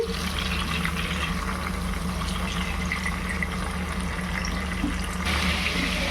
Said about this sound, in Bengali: আমি হালকা ফ্রাই করে নিচ্ছি